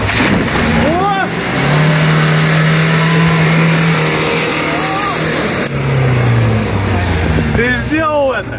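A Renault Duster accelerating, its engine note rising in a steady drone that sweeps upward, heard close while people talk and shout over it throughout.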